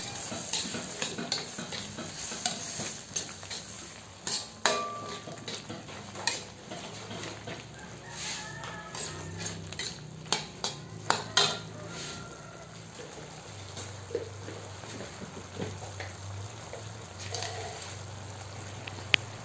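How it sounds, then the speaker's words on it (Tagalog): Fried chicken pieces and papaya being stirred in a pan with oyster sauce, soft scraping and clinking of the utensil against the pan over a steady low sizzle, with occasional sharper knocks. "Maglagay na rin tayo ng oyster sauce at haluin natin ito."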